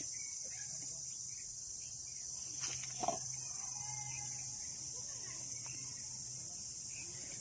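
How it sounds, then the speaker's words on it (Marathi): Steady high-pitched cricket chirring in a forest fills the background continuously, with a faint low hum and a brief soft knock midway. "रातकिड्याचाच असा आवाज येतो."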